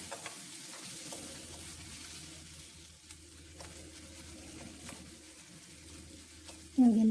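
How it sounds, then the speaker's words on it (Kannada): Ginger garlic paste frying in oil in a pan, a faint soft sizzle with light crackles and occasional stirring clatter, ending in a sharper louder sound. "ಹಾಗಾಗಿ ಸ್ವಲ್ಪ ಎಣ್ಣೆಲಿ ಫ್ರೈ ಮಾಡ್ಕೊಳ್ತೀನಿ."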